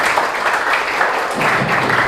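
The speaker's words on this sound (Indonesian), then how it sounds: "Kasih tepuk tangan yang meriah." Audience applause for a presenting group at a teacher performance test session, steady dense clapping throughout, fairly loud and continuous with no voices.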